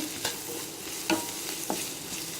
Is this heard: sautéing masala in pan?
yes